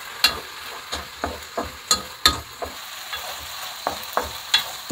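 Hotdog pieces being stirred and fried in a pan while cooking Valenciana, a steady sizzle broken by regular scraping strokes of the spoon about every half second, close up.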